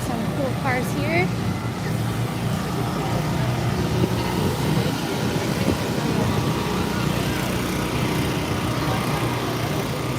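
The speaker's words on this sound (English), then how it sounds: "Sorry for the generator noise." A generator runs at the Flashback Car Show, a classic car show in Glendora, California, giving a steady, loud, unbroken engine drone for the whole stretch, with faint background activity mixed in.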